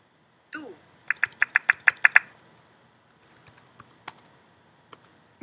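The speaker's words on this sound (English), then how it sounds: "you're just going to type what they say" A computer keyboard clatters as answers are typed into Quizlet, with a quick burst of about eight key taps followed by a few sparse, fainter clicks. A short voice comes just before the typing.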